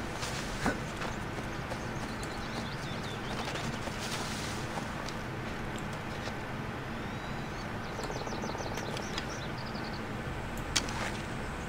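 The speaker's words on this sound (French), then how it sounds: "Je sais, je pourrais prendre le cheval." Horse hooves clip-clop steadily in the Assassin's Creed Odyssey video game, set under a dense, continuous bed of ambient game sound with faint bird-like chirps and no talking.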